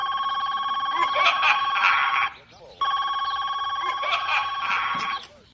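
A Skelephone toy skull telephone rings in two loud, continuous electronic bursts separated by a short pause, close and clear, with no talking over it.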